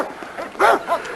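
Rosebud, a roughly 8.5-year-old female dog kept in a yard, gives two short, close yips or barks, one after the other, with some faint voice-like sound in the background.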